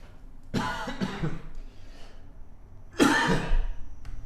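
Two bursts of harsh coughing, close and loud: a cluster of quick coughs at first, then a pause before another heavy cough.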